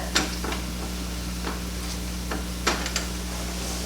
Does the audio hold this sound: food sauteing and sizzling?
yes